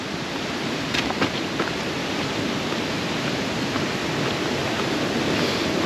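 Steady broadband rushing of the Inversnaid waterfalls in Scotland fills the scene, constant and fairly loud, with a few faint clicks over the roar.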